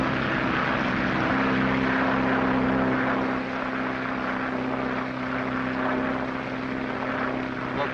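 A propeller airplane on a 1937 transatlantic flight, refueled after picking up serum and taking off despite storm warnings over the Atlantic, holds a loud, steady engine drone with a deep, even hum and no talk.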